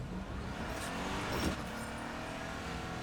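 A car drives in a video game, its engine giving a steady, moderately loud rumble that swells briefly midway.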